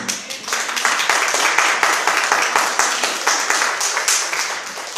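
A church congregation claps for the Lord during a Spanish-language sermon, a loud, dense burst of many hands with a few sharper individual claps standing out, sustained for about five seconds with no speech.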